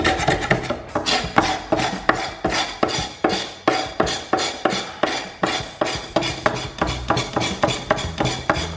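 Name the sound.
knife scraping oil residue off wooden IKEA dining table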